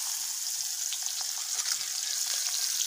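A fish head frying in hot oil in a heated kadai, a steady, dense sizzle with small crackles and pops, close and continuous with no voices.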